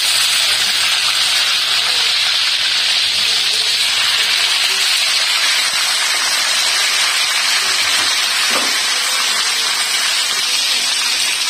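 Whole tomatoes hiss and sizzle in hot oil with frying chicken in a Shinwari chicken karahi. The loud, continuous steamy hiss is close, with occasional small pops.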